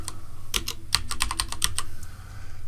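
Quick bursts of clicky keystrokes on a computer keyboard come in an uneven rhythm while a word is typed into texturing software, close and clear over a low steady hum.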